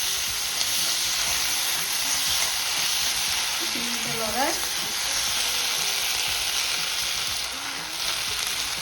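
Tomato sauce sizzles and spatters steadily in a hot pan while it is stirred for a fish manchurian, a dense continuous frying hiss with a brief scrape of the utensil partway through.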